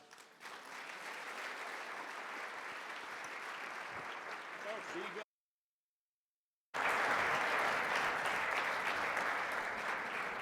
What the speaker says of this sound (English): let's put a huge round of applause for Ian and Steve.